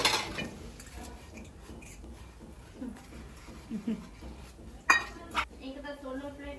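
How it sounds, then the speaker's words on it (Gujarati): Utensils are scrubbed and washed, with scattered soft clinks and scraping of metal pots, including a couple of sharper knocks near the end, all fairly faint and close. "નિધિએ વાસણ ઘસી લીધા"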